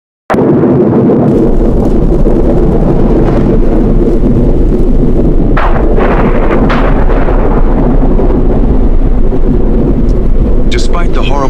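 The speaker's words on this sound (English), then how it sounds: "Despite the horrible storm" A violent thunderstorm near Jacksonville, Florida, heard during a road trip by car: a loud, continuous roar of heavy rain and wind with deep rumbling thunder and sharp bursts throughout.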